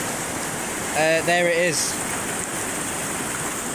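Floodwater on the swollen Porter Brook rushes steadily down into a small culvert, a constant broadband roar that holds throughout, with a brief spoken remark rising over it near the middle.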